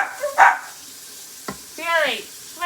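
Dogs bark a few times indoors in a kitchen, short close yelps spaced apart, with faint sizzling in the background.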